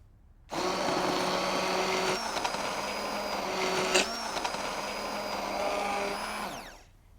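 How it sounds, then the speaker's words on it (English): Hand blender puréeing hot vegetable soup in a kitchen, a loud continuous motor whir that starts abruptly, holds steady with slight pitch shifts as it churns, and winds down at the end, no talking over it. "you can put this in a processor, or you can use a hand blender"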